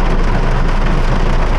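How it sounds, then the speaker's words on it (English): Exceptionally heavy rain pounds on a facelifted Mercedes-Benz C200 with a 1.5 turbo, a loud, dense, continuous hiss and drumming of drops heard from inside the cabin. "Now, this is an exceptionally heavy rain."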